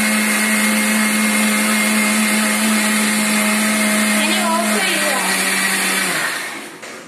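A kitchen mixer grinder whirs steadily as it blends egg batter seasoned with salt and pepper powder, a loud continuous motor drone that shifts pitch midway and winds down to a stop near the end.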